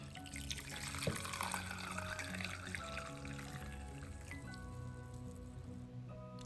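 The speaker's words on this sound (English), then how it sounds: "I'm gonna pour you a cup of tea." Turmeric and ginger tea trickles through a small strainer into a cup, a steady close pour with light splashing and drips.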